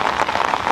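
Steady rain pattering outdoors at night during a survival challenge, a dense, even hiss of drops close by with no voices.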